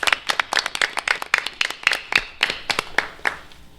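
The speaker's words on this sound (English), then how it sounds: "A round of applause." Sparse applause from a small audience at a City of El Centro meeting honoring city staff: a few people clapping in uneven, irregular bursts that taper off over about four seconds, close and moderately loud.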